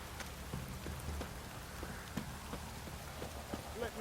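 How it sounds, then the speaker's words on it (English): Heavy rain in The Witcher 3 video game, a continuous hiss of downpour with scattered drop taps and a few faint hoof-like knocks, steady and moderately loud. "This downpour's a bastard, it is."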